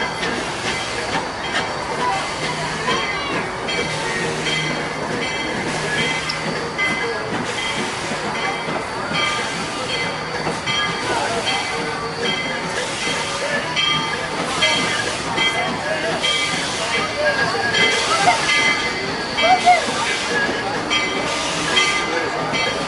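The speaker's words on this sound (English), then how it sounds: "Please remain seated until the train comes to a full and complete stop." Georgetown Loop Railroad steam locomotive no. 40 easing to a stop at high elevation, a steady dense rumble of rolling cars with hissing steam and faint wheel squeal running throughout, with a recorded voice announcement partly over it.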